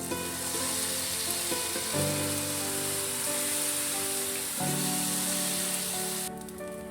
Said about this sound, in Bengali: এবার একটা হাতার সাহায্যে ব্যাটারটা তেলের উপরে ছেড়ে দিব।